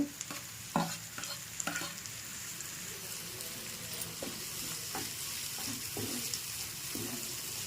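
Chopped tomatoes frying in a spiced masala for egg masala curry, stirred with a spoon against the pan: steady close sizzling with repeated scraping knocks and clatters of the utensil, no voices.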